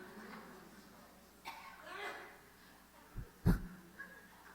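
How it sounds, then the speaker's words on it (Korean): An audience member at a church revival meeting gives a couple of short, sharp coughs in a reverberant hall, the louder one near the end, with quiet room murmur around it. "기침을 아주 통쾌하게 하시네요."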